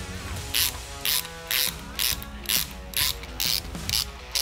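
A hand ratchet tightening intake bolts on a 6.0L LS engine, eight sharp rapid clicking bursts in a steady rhythm, close and loud.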